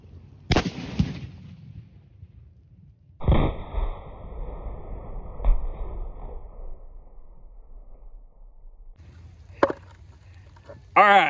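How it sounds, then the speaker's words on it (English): A hard hat struck and smashed in a deliberate destruction test: a few sharp, loud impacts separated by quiet gaps, each with a brief ringing tail, plus a faint low rumble between hits. "we're going to try to actually destroy this hard hat"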